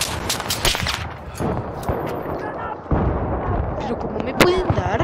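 Battlefield 3 gunfire and artillery-like blasts from a video game, heavy booming shots and rattling bursts close and loud, with a player's voice talking over parts of the action.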